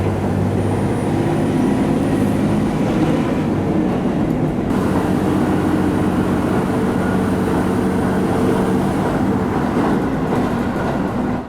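A local diesel train bound for Kameyama pulls away and gathers speed, its engine and wheels making a loud, steady rumble heard from inside the carriage.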